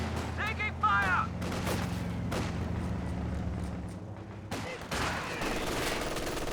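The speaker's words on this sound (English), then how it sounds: "MG42 firing away" An MG42 machine gun firing in the Company of Heroes 2 strategy game, rapid bursts mixed with other gunfire and battle booms under continuous game chatter and voices, with a heavy explosion-like hit toward the end.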